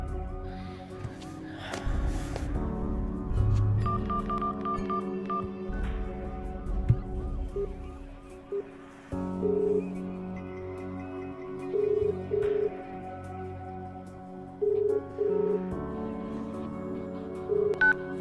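A series of electronic telephone keypad tones beeps at irregular intervals, moderately quiet, with a breath or snort near the start and faint background hum.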